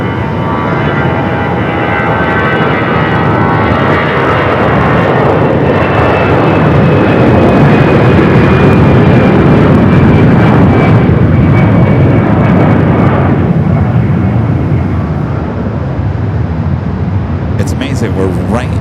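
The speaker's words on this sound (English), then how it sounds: "We got that A320 now rolling down that 25 right." An Airbus A320 jet rolls down runway 25 right at Phoenix Sky Harbor for takeoff, its engine roar loud and continuous throughout with a rising whine, and a voice talks over it.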